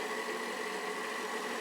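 A stand mixer with a paddle attachment whirs steadily as it blends quinoa and potato gluten-free pizza dough, a continuous even motor hum with no pauses.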